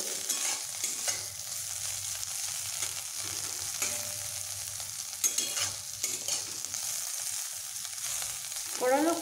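Bitter gourd pieces frying in a pan with spice paste, a steady close sizzle broken by repeated scraping stirs, with no talking.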